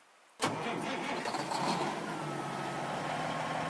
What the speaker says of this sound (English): So let's get the engine on and get on the road.